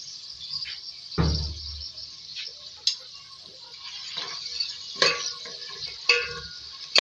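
Half a kilogram of chicken with ginger-garlic paste fries in a pan, giving a steady close sizzling hiss broken by a few sharp clinks and scrapes of stirring.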